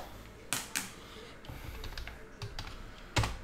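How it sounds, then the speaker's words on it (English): Quiet computer keyboard typing with a handful of scattered key taps and a few sharper clacks, uneven in rhythm and close by. "Let's quickly just type in the hits as they came out."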